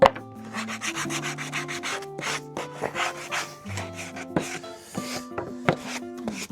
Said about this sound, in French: On va leur faire un tout petit coup de ponçage.